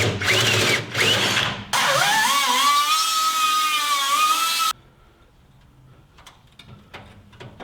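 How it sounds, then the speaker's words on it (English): A power drill bores a 1-inch grommet hole through a shelf in a Toyota Tacoma, giving a loud whining drill tone that rises and holds for a few seconds, then stops abruptly, leaving quieter handling clatter. "We have to drill our 1-inch hole for our grommet in the shelf here."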